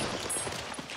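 Dense gunfire from a war drama battle scene, a continuous fusillade of overlapping shots and crackling bursts filling the whole second at steady loudness, with no voices over it.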